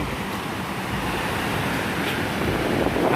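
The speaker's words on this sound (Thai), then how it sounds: "ช่วงนี้คลื่นแรง" Strong ocean surf rolls onto the sand at Karon Beach in Phuket, a steady broadband wash of waves with wind noise on the microphone, continuous and fairly loud with no voices.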